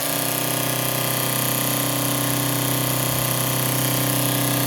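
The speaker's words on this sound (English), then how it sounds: "But I want to fire up the little belt sander here." A small adjustable-speed belt sander set to high runs steadily at close range for a knife handle repair, giving a continuous loud whirring drone with a gritty abrasive hiss and no pauses.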